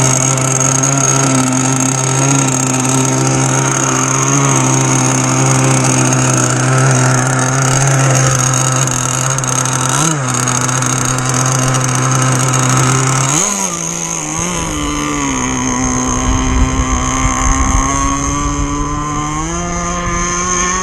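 Outboard engine on a Blazer Marine Backlash Gen 3 bass boat idling steadily and loudly up close, a droning buzz that dips and shifts pitch partway through as the idle changes, with no talking.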